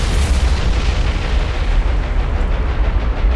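Bombs exploding on a warship in War on the Sea, a loud, continuous rumbling roar of blasts with dense crackling, sustained throughout without pause.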